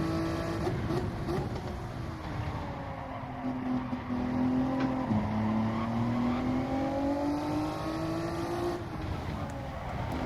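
Race cars lap Spa in the video game Gran Turismo 7, with engines whining steadily and rising and falling through gear changes, plus a brief squeal near the middle and no talking.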